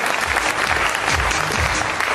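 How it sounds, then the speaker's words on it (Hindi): Loud, dense applause from a large business seminar audience, many hands clapping at once in a sustained burst that stays strong from start to finish. "एक बार जोरदार तालियां।"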